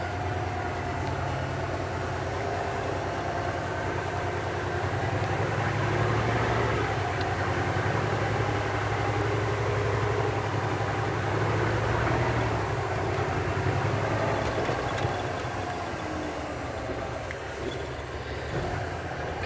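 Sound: truck with Eaton Ultrashift transmission driving

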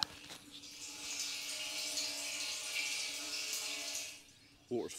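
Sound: water falling a long way

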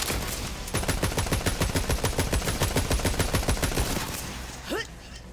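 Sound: assault rifle firing in the video game Borderlands 3

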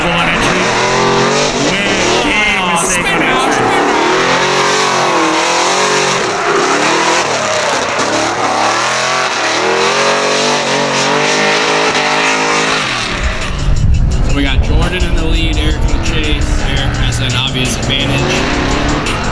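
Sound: drift cars in a Matsuri callout competition run

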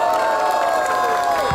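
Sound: crowd cheering for rapper Lil V at rap battle

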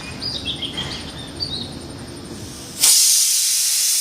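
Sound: pressure cooker steam hiss while cooking

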